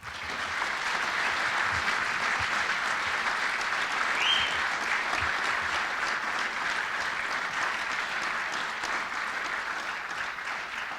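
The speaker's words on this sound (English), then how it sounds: "let's have a round of applause for Matt Singleton." Steady, full applause from an audience at a high school athletic hall of fame awards ceremony, a continuous wash of many hands clapping at even volume with a faint whoop.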